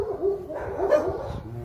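Several dogs bark and yip together at a kennel on a farm, with short, excited, overlapping barks at moderate distance and a whimpering edge.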